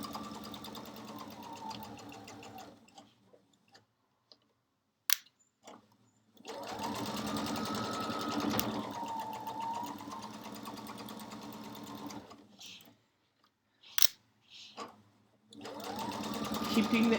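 A sewing machine stitches quilt rows with a quarter-inch foot, running in several long whirring bursts separated by pauses, with clicks and handling noises between runs, close up and without talk.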